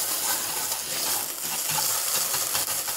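Tomato paste sizzles and spatters in a pan up close, with soft scraping and uneven crackles throughout.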